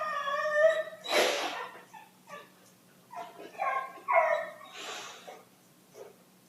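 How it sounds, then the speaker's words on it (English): Dog in an Age of Empires 3 match making excited whimpers, yips and short barks in several bursts, some held in a rising whine, fairly close over a low steady hum. "That's a dog excited to go for a walk."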